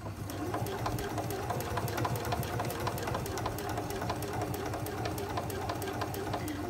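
A sewing machine stitches a quilted pumpkin wall hanging with steady, rapid mechanical chatter, evenly paced needle strikes over a low motor hum, close and continuous with no talking.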